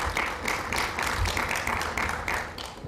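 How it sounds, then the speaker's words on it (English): Audience applause at a high-level parliamentary event on food and nutrition security, dense continuous clapping from a large hall crowd, steady and fairly loud throughout. "So we applaud you, sir."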